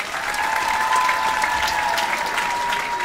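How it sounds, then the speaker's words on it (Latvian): Steady, loud applause from a concert crowd fills the whole moment, with a faint sustained tone running underneath. "Aplausi viņam."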